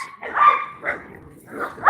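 Puppies bark and yip close by in a few short, high bursts separated by brief pauses, loud and clear with no talking over them.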